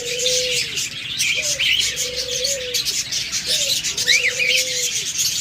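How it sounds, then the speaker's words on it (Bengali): Caged cockatiels at a bird seller's place chirp busily in a constant high chatter, while slow, drawn-out cooing calls repeat underneath, all fairly close and continuous. "আমাদের কাছে হিউজ করবেন ককাটেল রয়েছে"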